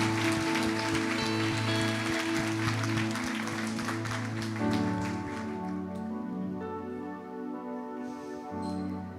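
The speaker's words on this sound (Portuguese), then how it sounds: "Você pode dar um aplauso bem forte ao Senhor?" Church congregation applauding during a service, dense sustained clapping over a held musical tone that changes partway through and continues as the applause thins.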